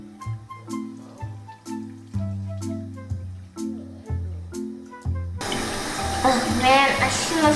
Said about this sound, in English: I need some cold water on my face.